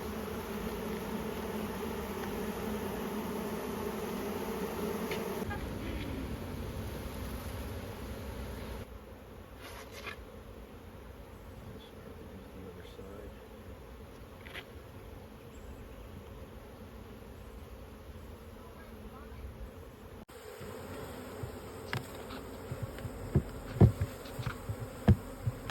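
A honeybee swarm in a garden hums steadily, with bees fanning the queen's scent at the entrance. The drone runs dense and continuous throughout, softening midway before a few louder close buzzes pass near the end.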